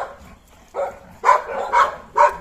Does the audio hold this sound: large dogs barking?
yes